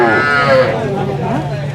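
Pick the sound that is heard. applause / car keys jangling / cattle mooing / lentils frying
cattle mooing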